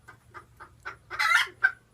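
Backyard farm chickens clucking close by, a run of short evenly spaced clucks that builds into a louder squawk and one final sharp cluck, with no talking over it.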